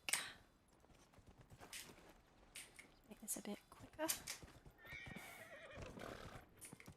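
In the video game Dragon Age: Inquisition, hooves clip-clop at a quick pace and a horse neighs, with a voice speaking over the scene.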